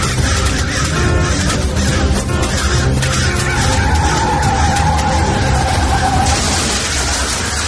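Car skidding and crashing on a road in a horror story: a loud, sustained screech of tires with a rising squeal, set against a dense, harsh layered sound-effect mix with no voices.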